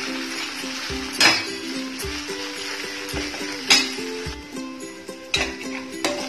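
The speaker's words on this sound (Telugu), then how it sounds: "అల్లం వెల్లుల్లి పేస్ట్ పచ్చివాసన పోయే వరకు వేయించుకోవాలి." Ginger garlic paste frying in a pan for a baby corn paneer masala curry: a steady soft sizzle over a low hum, broken by sharp metallic clinks of a spoon stirring against the pan every second or two.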